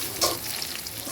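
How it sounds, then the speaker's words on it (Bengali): Ginger garlic paste fries in a pan with a steady, close hiss and crackle of oil, stirred now and then, with no voices. "এখানে আমি আদা রসুনের পেস্ট দিয়ে একটু ভাজা ভাজা করে নিলাম।"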